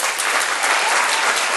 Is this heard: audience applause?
yes